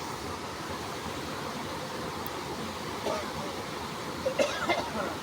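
Heavy rain pours down at Chapaner as floodwater rises, a steady, dense broadband hiss that holds at an even level throughout, with a few faint voices rising briefly near the end.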